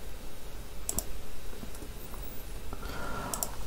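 Typing on a computer keyboard while writing Django REST Framework code, heard as short clusters of clicks and taps against a steady room hum, with no talking.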